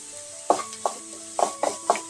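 Chopped onion with a little salt is stirred in a hot pan over medium flame, giving about six short scraping strokes at an uneven pace.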